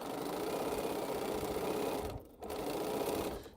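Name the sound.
sewing machine stitching quilt rows together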